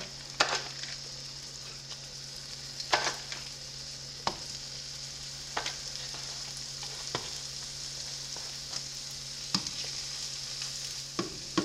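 King's Hawaiian rolls dipped as pumpkin spice French toast fry in a pan with a soft, steady sizzle, punctuated by repeated clinks and taps of a utensil every couple of seconds, no talking.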